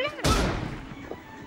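A single loud, sharp M24 sniper rifle shot in the mobile game PUBG Mobile cracks out and trails off into a fading echo, with faint voices nearby.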